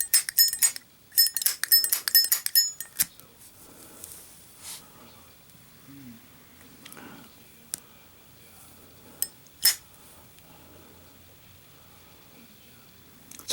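A Zippo lighter is drop-tested, starting with a fast run of bright metallic clinks and rattles that then give way to quieter, scattered small knocks and taps, with a couple of sharp clicks later on.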